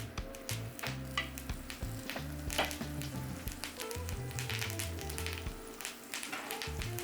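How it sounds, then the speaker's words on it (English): Leftover thyme sizzles in hot seasoned oil for a Jamaican escovitch sauce, a steady close frying hiss broken by light taps and stirring, with low rhythmic background tones running underneath. "Now the oil is hot, I'm going to add the leftover thyme,"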